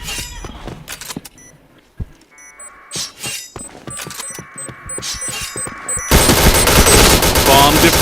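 Bursts of gunfire in a video game, with rapid close shots and single cracks scattered among clanks and game effects, followed by a dense loud barrage near the end.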